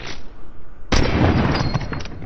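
A gunshot in a Fortnite match, one loud, close blast that breaks into a sustained, heavy burst of booming gunfire noise with no talking.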